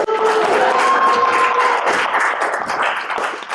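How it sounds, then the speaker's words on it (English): Audience applause at an open mic poetry night, a dense steady wash of many hands clapping close and loud for the whole stretch, tapering slightly toward the end. "Another round of applause for Maynard"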